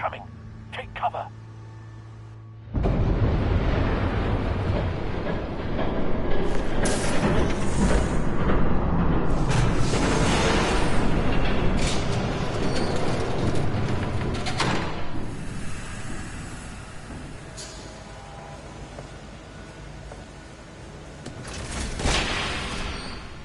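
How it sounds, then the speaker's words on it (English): A train rushes past in the Batman Telltale video game, arriving abruptly as a loud, sustained low rumble with broadband roar that swells and fades over about twenty seconds. "There's a train coming."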